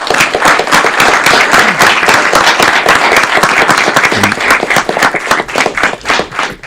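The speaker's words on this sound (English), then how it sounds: "Let's give her a round of applause." A loud round of applause from an audience, dense clapping sustained for several seconds with some cheering mixed in.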